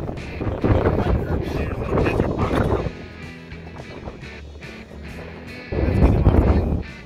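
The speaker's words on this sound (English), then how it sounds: "It is windy, it is storming." Strong wind from a storm with near-tornado conditions in Texas buffets the microphone outdoors, loud rumbling gusts rising and falling, with people talking over it in places.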